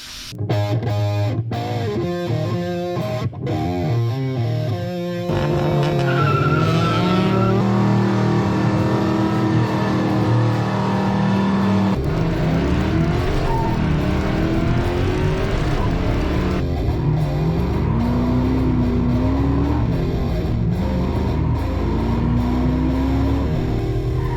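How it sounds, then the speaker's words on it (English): Loud, close Dodge V8 engine roaring and revving hard through power braking, sustained throbbing with pitch swings, overlaid by harsh continuous noise like tires squealing. "This is what happens when you power brake a Dodge a lot."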